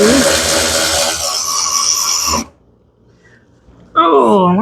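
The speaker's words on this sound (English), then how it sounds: "electric ratchet, man, it will make your life so much easier" An electric ratchet spins bolts off the bumper of a 2007–2013 Chevy Silverado, a loud, close, steady mechanical whir lasting about two seconds before cutting off, then a short quiet gap and a brief voice.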